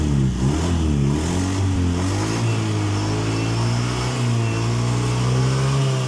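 Honda Beat FI scooter engine revving hard at full throttle: a loud, sustained buzzing roar that rises and wavers in pitch, held close and continuous throughout.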